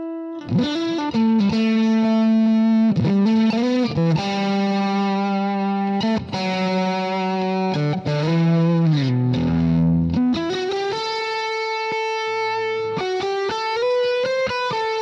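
Vintage electric guitar with plenty of headroom, played through distortion and effects, ringing loud sustained chords and bends with rich harmonic overtones, continuous and alone with no talking.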